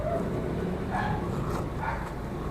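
A dog barks a couple of times during a delivery stop, the short barks partly buried under a heavy, steady wash of background noise.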